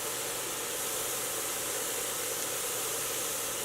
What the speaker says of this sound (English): So saute for just 2 or 3 minutes